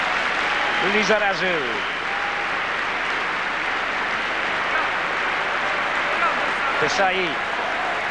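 Home crowd at a France versus Brazil football match in France, a broad, steady roar of cheering filling the stadium beneath a commentator's voice calling player names.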